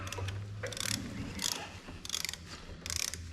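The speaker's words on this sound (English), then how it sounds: "I'm using, what is this, 10 millimeter to tighten this thing up" A 10 mm ratchet tightening an air-ride suspension part, giving four quick bursts of rapid clicking pawl ratchet strokes separated by short pauses, close and clear with no talking.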